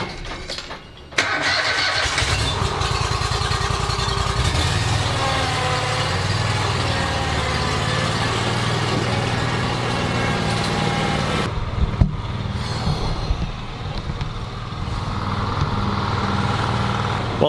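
A Scag riding lawn mower mulches thick St Augustine grass, its engine starting with a sudden loud burst and then running steadily and close for the rest of the clip, with no talk.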